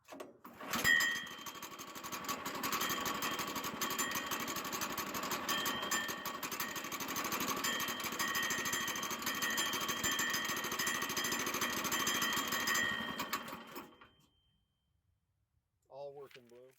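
A Woodland Mills sawmill motor test-runs loud and steady for about thirteen seconds, a rough buzzing drone that cuts off abruptly, followed by near silence and a short voice at the very end.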